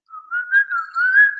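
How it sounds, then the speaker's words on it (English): A person whistles a short, wavering tune of a few connected notes, clear and close, with no other sound around it. "I can whistle a little bit."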